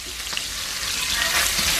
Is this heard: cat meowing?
no